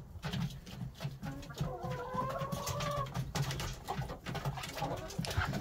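Chickens and roosters fuss in their pen during a snowy spell, soft overlapping clucks and murmurs with a drawn-out warbling call in the middle, fairly quiet and close, with no one speaking.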